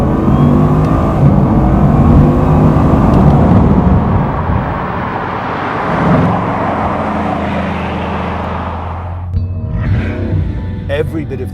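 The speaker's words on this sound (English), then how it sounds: "it's like having an industrial power station whirring and whooshing and ingesting vast amounts of air" A Bugatti supercar engine whirs and whooshes loudly, its broad rushing roar sustained for several seconds before easing into a lower steady drone near the end.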